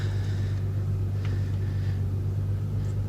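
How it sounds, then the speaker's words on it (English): Inside a Ford Fiesta R5 rally car, a steady low engine rumble drones with a thin high gearbox whine and faint fuel pump hum above it, even and uninterrupted, no talking. "You hear the gearbox whine at the back, you can hear the fuel pump."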